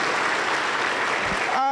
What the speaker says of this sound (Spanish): Aplausos contentos para el Señor Jesús